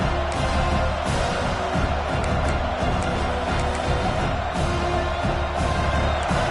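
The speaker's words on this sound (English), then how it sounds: "This crowd, full throat, splitting the eardrums" Stadium crowd in the Madden 26 American football video game, roaring steadily and loudly at full throat with scattered whoops and cheers throughout, a dense wall of noise with no clear pause.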